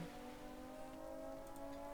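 Steady, faint rain hiss from the video game Stormworks plays continuously, with a low tonal hum from the game running underneath and no speech.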